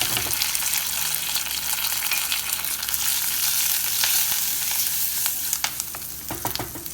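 Red chilies, curry leaves and hing sizzle and crackle steadily in hot oil for a tiffin sambar tempering, with a dense, even hiss and a few sharper pops near the end.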